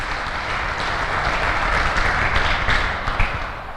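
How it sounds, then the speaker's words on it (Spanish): An audience applauds to welcome first-time visitors at a talk held at Colegio Teresiano, a dense, even patter of many hands clapping that swells slightly and carries on without voices. "Vamos a darles un aplauso a ellos."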